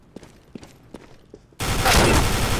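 Counter-Strike: Global Offensive flashbang grenade and gunfire: a few sharp, spaced pops, then a sudden loud, dense wash of noise that holds steady to the end, with no talking.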